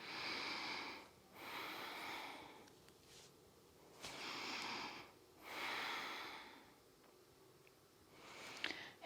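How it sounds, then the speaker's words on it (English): Slow, deep breathing held in a hip-opening yoga pose, long airy inhales and exhales alternating in a calm rhythm over several cycles, close to the microphone and faint, with no talking. "Let's take 3 more breaths here."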